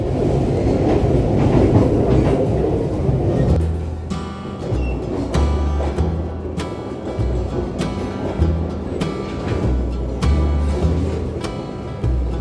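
A passenger train rolling along the rails through curves, steady rumble with repeated clickety-clack wheel beats over the joints, close and continuous with no voices.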